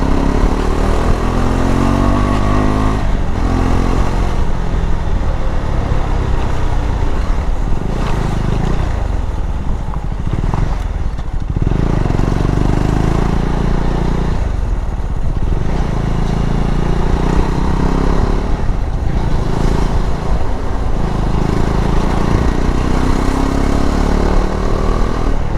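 A customized KTM 390 Adventure motorcycle engine accelerating on the road, a loud continuous engine drone with rising and falling revs through gear changes, heavy wind rumble throughout.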